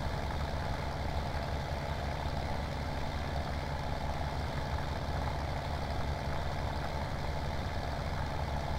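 A tractor plowing a field in Farming Simulator 17 on Goldcrest Valley, a steady, loud, low engine drone that holds constant throughout, with no voices.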